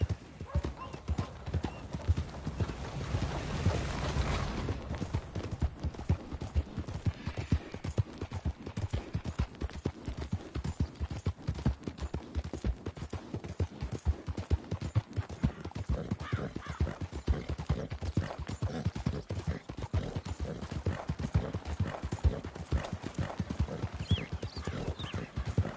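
Horse hooves clip-clop in a steady, rhythmic gallop in the Red Dead Redemption 2 video game, with a brief whinny and windy rush early on and occasional faint game voices.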